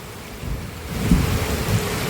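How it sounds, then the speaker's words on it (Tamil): Heavy rain pours steadily in Kanyakumari with a low rumble of thunder building midway, a dense close wash of rainfall with no voices. "மழையை பாருங்க, வேற லெவல் மழை."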